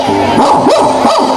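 A person voices a short run of loud, close dog-like barks and yips, imitating a dog.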